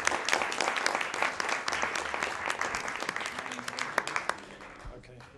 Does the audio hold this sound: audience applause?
yes